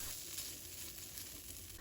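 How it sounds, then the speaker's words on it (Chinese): Squid stir-fries in a pan over high heat, giving a steady, close sizzle with a continuous crackling hiss and no talk. "那我现在全程大火炒，大概炒1分钟"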